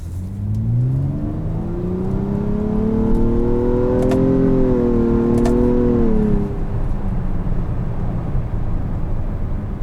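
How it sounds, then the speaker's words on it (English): A 2020 Nissan Maxima SR engine and exhaust, heard from inside, climbs steadily in pitch under acceleration, then holds a loud, continuous drone with a couple of brief sharp ticks midway. "I hear a good amount of burbles from the exhaust too."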